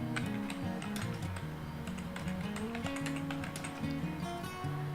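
A computer keyboard being typed on in light, irregular clicks, faint beneath steady tonal background music.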